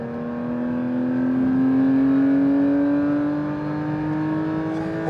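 A Porsche 992 GT3 pulls hard in fourth gear, its engine note climbing steadily in pitch and swelling louder toward the middle before easing slightly, a smooth rising wail heard alone without talk.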